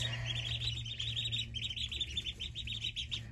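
Newly hatched baby ducks on a homestead peep in a rapid, continuous chorus of high, close chirps over a low steady hum.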